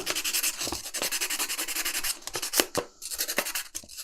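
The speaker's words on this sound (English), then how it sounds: "I'm just going to finish it off for 1000 grey sandpaper." Rhythmic scratchy rubbing strokes repeat quickly and close up, as 1000-grit sandpaper is worked back and forth on a small hard model ship part.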